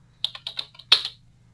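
A computer keyboard being typed on while writing a header in Word 2007: a short burst of about half a dozen crisp key clicks, then one louder clack, with a low hum behind.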